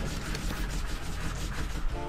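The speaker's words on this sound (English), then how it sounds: "that's my cat scratching on the door" A cat scratches at a door, a steady rough rubbing and scraping that continues without a break and sits close by.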